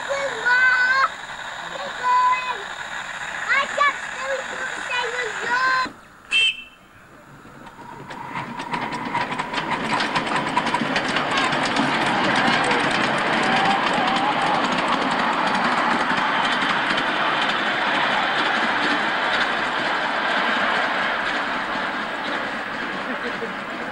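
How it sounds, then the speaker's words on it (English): A miniature steam railway locomotive runs with a steady rolling clatter and chuff that builds and holds for over fifteen seconds, after an opening stretch of music and narration-like voice. "And youngest son Roger assists the driver of the miniature railway to top up the loco's water tank."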